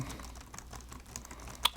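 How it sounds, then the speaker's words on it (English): Someone taps the keys of an ARM-powered Acer Spin 513 Chromebook keyboard, a short run of light, fairly clicky keystrokes ending in a louder clack. "Let me give these keys a little feel real quick."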